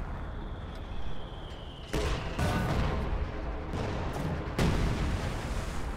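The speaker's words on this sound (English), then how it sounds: "you pick which way you want the artillery shells to go. And they'll start firing." Artillery shells firing in Company of Heroes 2, a series of heavy booming blasts about a second apart over steady battlefield rumble, loud and close with no talk.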